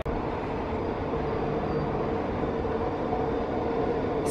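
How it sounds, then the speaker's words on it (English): An elevated SkyTrain rumbles past nearby a park with a continuous, loud roar of wheels and motors that holds steady throughout. "the SkyTrain tracks run right beside it, so it's really noisy in this half of the park"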